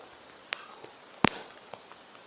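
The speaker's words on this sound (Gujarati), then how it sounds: "વરસાદ તો તમે જોઈ લો" Light rain falls outdoors as a faint, steady hiss, with a few distinct raindrop hits popping out sharply and close by.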